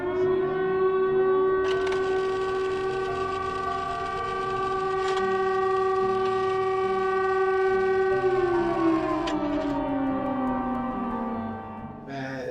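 A wartime civil-defence air-raid siren over a French village near Frouard in 1944 holds a loud, steady wailing tone, then winds down in pitch at the end, with no talking.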